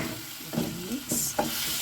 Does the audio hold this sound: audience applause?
no